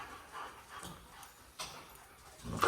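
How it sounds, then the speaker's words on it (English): Dogs in a welding shop give a few faint, sporadic barks and yips at a distance, with quiet shop ambience between them. "You gotta excuse our dogs."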